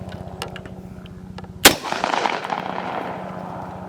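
A single sharp unsuppressed shot from a CZ Bren rifle firing subsonic ammunition outdoors at a range cracks loudly over a low hum, followed by a rumbling echo that fades over a couple of seconds.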